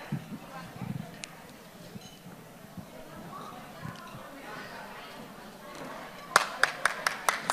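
An audience applauds after a live performance of traditional Vietnamese theatre: a few seconds of murmur and voices, then a short burst of sharp, close clapping in the final second.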